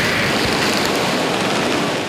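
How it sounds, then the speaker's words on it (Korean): Heavy water from Iguazu Falls crashes down onto a boat in a close, continuous roaring wash of broadband noise with no breaks, loud and enveloping for the whole moment. "압도적인 폭포 소리까지 더해 온몸으로 이구아수 폭포를 느끼는 순간이다"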